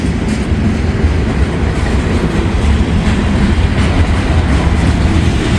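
Coal train rolling past: a loud, steady, close rumble of heavy freight cars with a faint rhythmic clatter of wheels running throughout and no voices.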